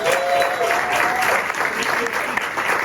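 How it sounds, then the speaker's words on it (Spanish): An audience at a church gathering applauds to welcome two guests, a continuous burst of clapping from a moderately sized crowd, fairly close and even throughout. "usted lo reciba con un aplauso a Robert y a Stephanie"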